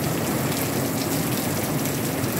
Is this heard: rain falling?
yes